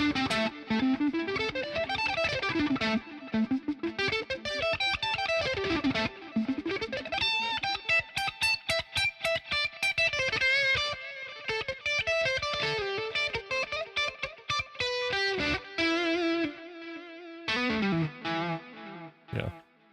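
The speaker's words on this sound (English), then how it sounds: "Noise gate's kicking in some on my distortion channel." A distorted electric guitar plays a fast riff, with sound cutting off abruptly between phrases as a noise gate closes on the silences.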